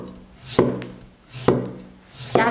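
A kitchen knife slices a raw potato into thin shreds on a cutting board, giving three sharp, close chopping strokes spaced about a second apart, each with a woody knock and a short scraping tail.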